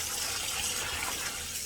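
Running tap water pours steadily over fresh collard greens being rinsed, a close, continuous wash of gushing and splashing with no break.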